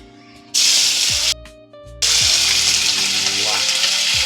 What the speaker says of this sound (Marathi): मिरच्या टाकल्या डायरेक्ट धड फटाकडे फुटले मिरचीचे